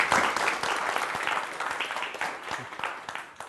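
Warm applause from a forum audience for two speakers at a talk event in Seongsu, a lively burst of clapping that starts strong and gradually thins out.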